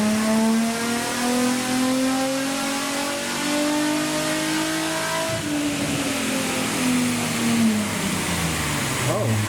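A Nissan 350Z engine revving under load on a dyno during a base run, a loud rising drone that climbs steadily, then drops off before climbing again briefly, with a voice speaking over it.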